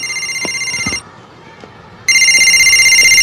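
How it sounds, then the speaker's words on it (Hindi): A telephone rings loudly with a bright electronic trill in two bursts separated by a brief pause, close and clear. "उठा ले बेटा, तेरी मम्मी का ही फोन होगा।"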